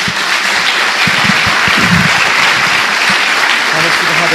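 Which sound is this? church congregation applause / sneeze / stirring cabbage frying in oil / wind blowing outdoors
church congregation applause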